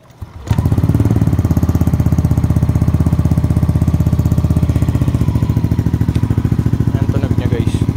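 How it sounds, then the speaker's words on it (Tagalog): A Yamaha Aerox version 1 scooter on a stock engine, fitted with a TRC pipe and no silencer, fires up and holds a loud, steady, bassy idle with a rapid pulsing throb close by. "TRC pipe pang Aerox version 1. Sound check natin agad. Without silencer to guys ha."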